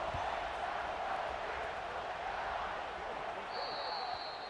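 A stadium crowd roars steadily as a dense, continuous wash of noise in an EA Sports College Football 26 game during a kickoff, with a commentator talking over it.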